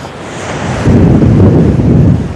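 Atlantic Ocean waves roll onto a quiet beach on Amelia Island, heard as a loud, steady wash of surf that swells partway through, mixed with heavy wind buffeting on the microphone.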